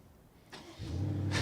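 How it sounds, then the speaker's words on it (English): A 2019 BMW M550i V8 engine starting remotely with no one inside, heard from outside the car: a click, then the engine catches and settles into a steady idle. "It's just funny that the engine is starting remotely from the outside."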